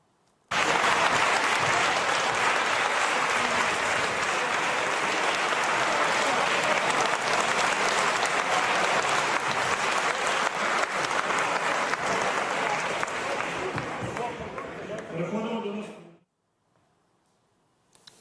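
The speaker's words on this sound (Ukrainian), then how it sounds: "Проводжали пана Резнікова, колишнього вже екс справді міністра оборони з посади під оплески." Sustained applause fills the Ukrainian parliament chamber as the outgoing defence minister is seen off. A dense crowd claps steadily for about fifteen seconds, then it tapers off and ends.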